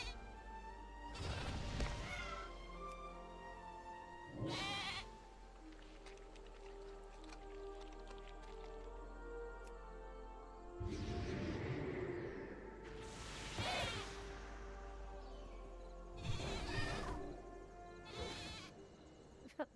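Sheep bleat in a video game during a creature battle, with several short, loud cries spaced irregularly over a quiet, muffled background and no voices.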